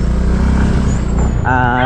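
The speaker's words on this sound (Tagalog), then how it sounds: "Marunong ka na rin sa tunog ng motor, ah." A motorcycle engine runs loud and close with a steady rumble, and a brief higher tone comes in near the end.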